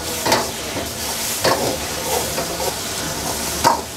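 Chicken sizzles and hisses steadily in a hot pan over medium flame while a spatula scrapes and stirs it in periodic strokes.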